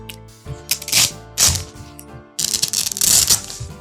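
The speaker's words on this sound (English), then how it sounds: "And it has this Velcro fastener." A Velcro fastener on a cosplay costume tears open in several short, crackling rips, with brief pauses between pulls and a longer final rip.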